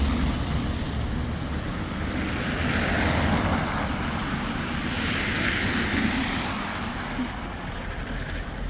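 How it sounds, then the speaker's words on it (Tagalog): Strong wind roars through a snowstorm in Helsinki, Finland, as a continuous broadband rush that swells and eases in gusts, with no voices over it. "Pero ang lakas ng hangin."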